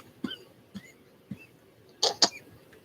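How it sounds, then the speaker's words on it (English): A person lets out a few short, soft coughs spread across the moment, ending with a slightly louder double cough, close by in a quiet room. "Just a cough. Just came out of nowhere."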